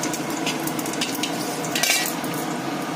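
Whole cumin seeds and a dried red chili sizzle in hot oil in a pan, a steady close crackle broken by soft scraping stirs, with no one speaking.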